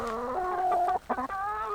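Hens clucking as they eat on an Irish homestead in winter, a steady run of close, contented warbling calls with a brief pause near the end.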